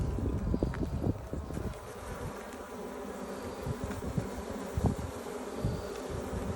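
Honey bees buzz around an open hive during a first-day-of-spring inspection, a dense droning hum with individual bees whizzing close by and occasional faint wind and handling noises.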